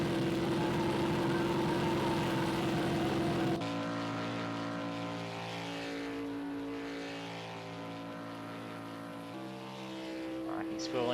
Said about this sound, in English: He's spooling it up down the straight. High speed spool as well, going 90 k's down the back straights.